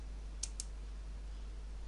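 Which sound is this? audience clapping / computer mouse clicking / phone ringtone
computer mouse clicking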